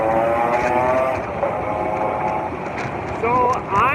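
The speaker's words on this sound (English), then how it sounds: "They jack their motorbike to make extra sound." Loud modified motorbike engine on a road in Bali, a droning, rasping exhaust with shifting pitch and revving near the end. A voice talks over it.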